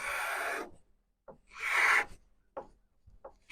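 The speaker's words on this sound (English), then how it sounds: "to put pressure down and scrape it, and it's gonna scrape the finish off" A hand scraper is pressed down and drawn across an old wooden dresser to strip its finish, producing a few loud rasping strokes with short pauses and lighter scratches between them.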